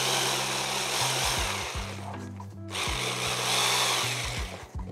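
An electric food chopper whirs as it blends a paste with oil and vinegar, a loud motor drone in repeated pulses with short pauses between runs.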